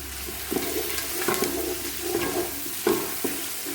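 Carrot, capsicum and celery sticks dropped into a hot frying pan for coconut chicken kabsa, a steady sizzle broken by several sharp crackling bursts as pieces hit the oil.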